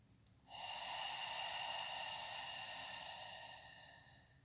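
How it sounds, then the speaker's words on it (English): A single long, slow breath, a smooth airy rush lasting about three seconds, close and quiet and fading out gently, with no talking. "One more time, deep breath in."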